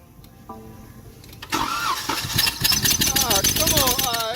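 Car engine cranked over by the starter with the fuel pump unplugged, a rhythmic whirring churn starting abruptly and continuing loud and close, with a voice speaking briefly at the start.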